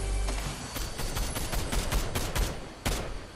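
Gunfire in an online shooter video game comes as dense, continuous volleys of rapid shots, loud and sustained across the whole moment with a few sharper bursts.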